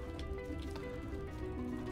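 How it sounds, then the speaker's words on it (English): Rain falls in the Mr Prepper video game as a soft, even patter of drops on a surface, steady and fairly close under a low background hum, with no talking. "We've got some rain as well."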